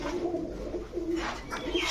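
Young Indian Kakji pigeons coo in low, throaty bursts close at hand, their calls repeating over a steady background hum.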